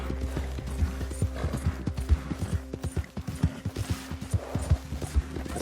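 Horse hooves clip-clopping at a steady walking rhythm in Red Dead Redemption 2, close and fairly quiet, with soft tack creaks and a brief whinny-like tone, no talking.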